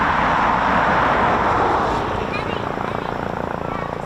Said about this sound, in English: let's get a little bit more heli action